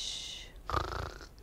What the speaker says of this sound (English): Big snores.